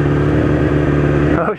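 A 250 motorcycle rolling away on light throttle, its engine humming steadily and loudly up close before fading off at the end, with a voice talking over it.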